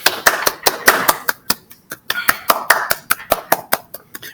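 Children clap their hands in a steady, rhythmic series of sharp, close claps, with some loose and scattered claps mixed in.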